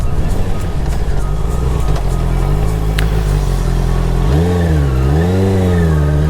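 A 2019 Honda CBR 650R sport motorcycle, restricted to A2 power, drones steadily under load, then revs rise and fall in repeated swells as it accelerates on a straight road, heard loud and close from the rider's position.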